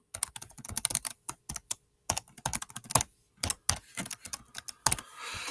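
Someone types on a computer keyboard in quick, uneven bursts of light clicks separated by short pauses, close and fairly quiet, with no voices.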